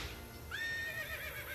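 A horse whinnies in the video game Nancy Drew: Secret of Shadow Ranch, one quavering neigh that rises and then trails down over about a second, clear but soft against faint ranch ambience.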